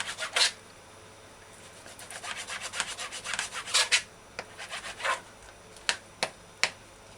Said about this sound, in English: Use a sharp knife and cut strips as tall as your finger and as thin as you can get it.